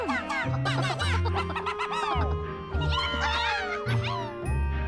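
Dog barking in the Luigi's Mansion 2 video game, a run of quick yips and barks mixed with game chatter and cartoonish voice sounds.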